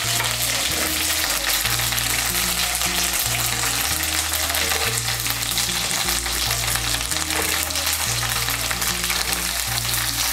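Mixed vegetables fry in hot oil with ginger paste, a loud, dense, continuous sizzle and crackle under steady background music, with no talking.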